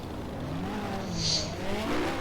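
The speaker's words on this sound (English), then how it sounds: "Nice burnout down here as well from Aaron McGrath, number 957" Classic hot rod performing a burnout at Arena Essex raceway, a steady engine roar with rising harmonic sweeps and a brief hissing tire-squeal burst in the middle, moderately distant.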